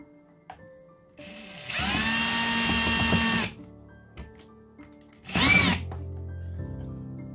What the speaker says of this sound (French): On vient visser donc la deuxième vis cruciforme.